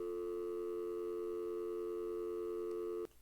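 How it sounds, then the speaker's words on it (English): A landline telephone tone plays as a sound effect: one steady, loud, unbroken tone holding for about three seconds before it cuts off abruptly. "It's the landline phone."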